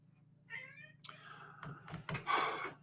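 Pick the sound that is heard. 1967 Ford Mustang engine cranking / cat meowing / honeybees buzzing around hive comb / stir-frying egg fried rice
cat meowing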